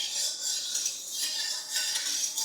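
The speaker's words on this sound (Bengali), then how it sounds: "দেখো, তেলটা একটু নেড়ে নিলাম" Mustard oil stirred in a hot wok with a utensil, giving a soft continuous sizzle and light metallic scraping and clinking, close and steady with no talk.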